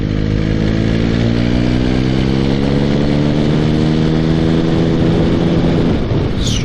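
A motorcycle pulling away in a lower gear on a road with bends, its engine loud and close, revving steadily higher as it accelerates.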